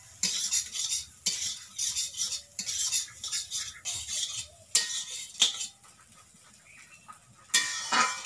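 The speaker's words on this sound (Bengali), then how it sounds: "5 থেকে 6 মিনিট ভালোভাবে আলুটাকে ডিমের সাথে ভেজে নিতে হবে" Potato and egg fry in a pan while a utensil stirs and scrapes them in repeated bursts, with a faint sizzle underneath between strokes.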